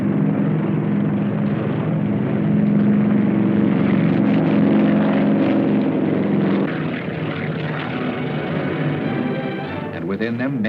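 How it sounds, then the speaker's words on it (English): Propeller-driven WWII transport planes take off at dusk, each towing twin gliders. A loud, steady, droning engine roar fills the whole stretch, with voices faintly present. "At dusk, the first planes took off, each transport towing twin gliders."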